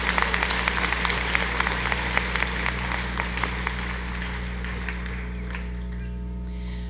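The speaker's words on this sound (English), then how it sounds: "Please give a round of applause for our Academic Achievement Awards" An audience at a community college commencement applauds academic achievement award recipients, moderate steady clapping for about five seconds that then dies away into a quiet room hum.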